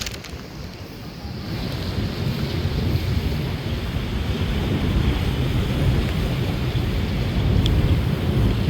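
A strong current of flowing floodwater near a flood control project roars steadily, a dense broadband rush with low rumbling that swells after the first second and holds loud and continuous, like wind-buffeted water close to the microphone, with no talk.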